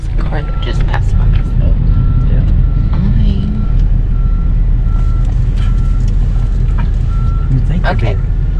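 A rollback tow truck backs up with its reversing alarm beeping in a regular, moderately loud pattern over a low engine rumble, while people talk nearby.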